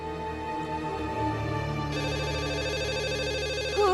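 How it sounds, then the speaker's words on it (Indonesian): A telephone rings indoors in a home during a televised football match, a steady electronic ringing tone that holds loud and continuous, shifting to a warbling pattern near the end. "Kalau sudah nonton bola sampai nggak dengar suara telepon."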